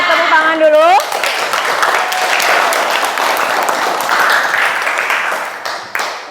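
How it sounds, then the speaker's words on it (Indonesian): A chemistry class breaks into brisk, dense applause after a quiz round. A short spoken voice comes first, then many hands clap steadily for about five seconds and taper off. "Oke, tepuk tangan dulu."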